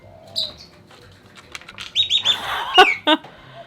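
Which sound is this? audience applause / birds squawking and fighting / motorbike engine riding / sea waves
birds squawking and fighting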